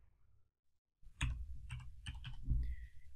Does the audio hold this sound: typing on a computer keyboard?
yes